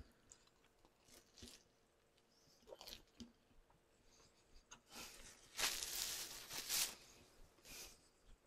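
Quiet, intermittent chewing and crunching of food close to the mic, with soft bursts of mouth sounds spread across the clip and a louder stretch near the end.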